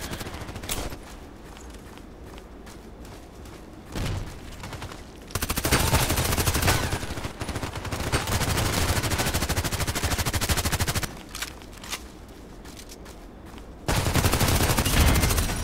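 Automatic gunfire in the shooter game Contract Wars, with long loud sustained bursts of rapid shots separated by quieter stretches, close and dominant.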